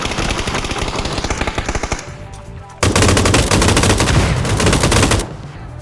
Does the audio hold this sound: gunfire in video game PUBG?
yes